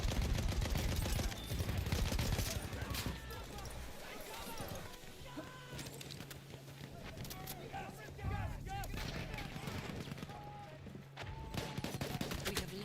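Gunfire in the video game Battlefield 1: dense, continuous crackle of shots and booming impacts, loud at the start and easing into a steady background of fire, with players talking over it.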